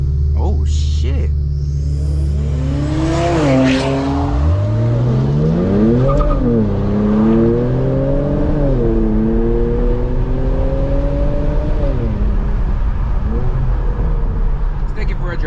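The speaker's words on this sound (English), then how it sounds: "Let's hear that car from a dig." A JB4-tuned Infiniti Q50 accelerates hard from a dig, its engine revving up loud and close through several rising gear pulls, with tire noise and a voice talking over it.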